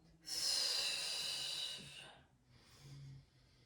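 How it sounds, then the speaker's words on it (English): A big exhale through the mouth during a slow exercise flow: one long, breathy rush of air, close and fairly soft, followed by a fainter second breath. "Exhaling through the mouth. Big exhale."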